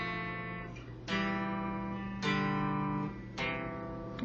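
Guitar playing the chord part of a song, with three strummed chords ringing out one after another at a slow, deliberate pace, fairly quiet and alone.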